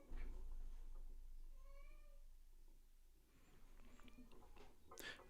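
A cat meows a few times in the middle, fairly close and distinct, while a livestream of a cycling race plays on with background commentary and room noise.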